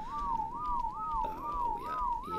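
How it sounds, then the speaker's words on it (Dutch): A continuous warbling whistle plays in the game Ark: Survival Evolved, its pitch gliding up and down in a regular loop about twice per second, steady and fairly loud over a soft background. "Dit gefluit is wel een beetje vervelend"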